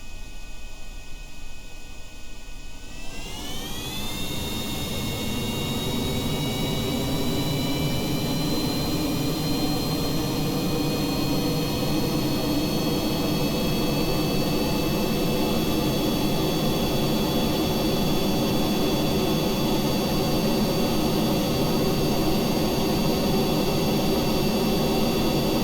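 A space plane's jet engine in Kerbal Space Program spools up with a rising whine and settles into a steady, loud, continuous roar with a high tonal hum during takeoff.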